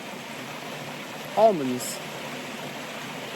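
Water from a stream flows under a road in a constant broadband outdoor rush, steady and moderately loud. Someone briefly says a single word over it.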